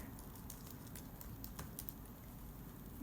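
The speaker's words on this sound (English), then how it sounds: "let me type my calculations over here" Light clicking keystrokes of someone typing calculations on a computer keyboard, faint and intermittent over a steady low room hum, no talking.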